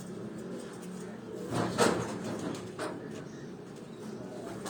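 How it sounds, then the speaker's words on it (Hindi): Lakha pigeons coo softly in a short burst over steady outdoor background noise, with a few faint bird sounds around them. "लाखे कबूतर तुहानू शौक करा रहे हैं जी"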